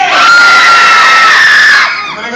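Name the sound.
audience members screaming loudly on cue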